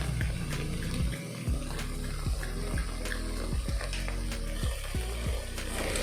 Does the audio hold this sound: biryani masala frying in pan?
yes